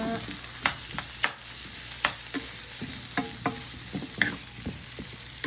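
Squash pieces sauté in a pan under a constant sizzle, broken by intermittent spatula scrapes and taps against the metal, close and clear.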